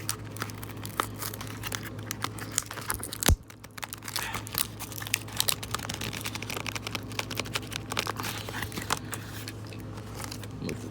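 Paper packing material crinkles and crumples steadily while Beyblade X spinning tops are unboxed, giving a close, continuous rustle with scattered sharper crackles and one brief louder crunch.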